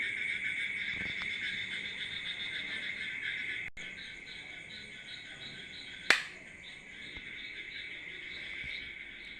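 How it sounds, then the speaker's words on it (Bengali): Insects, likely crickets, chirp outdoors on a night after a dry day, a dense continuous high trilling heard at moderate distance, with one sharp click partway through and no talking. "কীভাবে ঝিঝি পোকা ডাকছে?"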